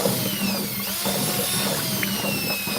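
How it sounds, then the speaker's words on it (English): A power drill mixes paint in a bucket, running as a steady, continuous whir with a low rumble throughout, fairly close and without talk. "now we'll take the drill and mix this up."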